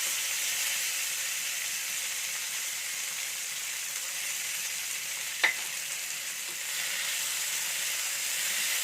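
Cashews and raisins frying in oil in a pan, a steady even sizzle with one brief sharp pop midway and no talking.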